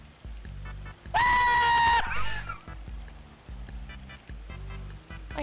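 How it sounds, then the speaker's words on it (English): A person screams at the top of their lungs, a single loud, high sustained shriek lasting about a second, standing out sharply above a quiet background of looping music. "scream at the top of your lungs"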